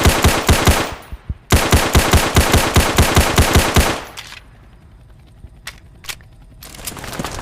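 Rapid automatic gunfire from a gun in a video game, loud bursts of close shots for about four seconds, then a few isolated sharp reports over quieter background.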